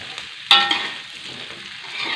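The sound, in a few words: chili and spring onion stir-frying in a pan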